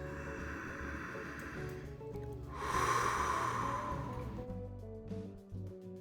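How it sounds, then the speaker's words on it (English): A person taking a few slow, deep breaths, drawing air in and letting long breaths out, audible close by against a steady low background hum. "I get my mind ready with a few deep breaths in and long breaths out"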